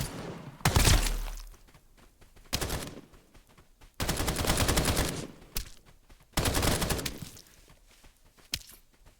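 Sniper gunfire sounds in the Escape from Duckov video game: several loud, sharp shots and short bursts, each trailing into a ringing tail, separated by quieter gaps.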